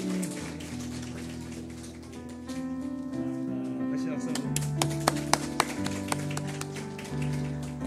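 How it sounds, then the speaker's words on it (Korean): A church congregation at a Sunday worship service applauds in a steady, rain-like patter of clapping that runs the whole time over sustained, held musical tones. "박수로 우리 다시 한번 축하드립니다."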